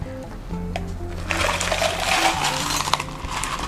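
Soda water pours into a glass of rose-syrup lemonade, a bubbly, fizzing splash that swells after the first second and keeps going over quiet background music.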